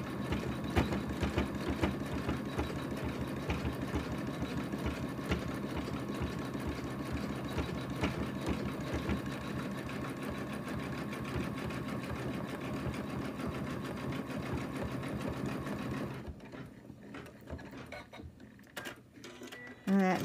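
An embroidery machine stitches an in-the-hoop lamb design, a steady, loud mechanical hum with rapid needle rhythm running continuously for about sixteen seconds before stopping, followed by quieter handling sounds.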